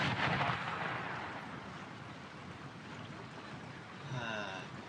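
Musket volleys crackle in an American Civil War battle game, a dense distant rolling wash of massed gunfire that is loudest at the start and then settles into a steady low roar.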